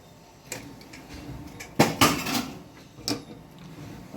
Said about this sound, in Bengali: কড়াটা বসালাম।